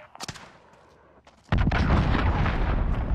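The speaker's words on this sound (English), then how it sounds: "Allied cruise missile launched." Cruise missile strike explosions in Call of Duty Modern Warfare, a few small pops and then a loud, sustained roaring blast with rumbling debris filling the rest of the clip.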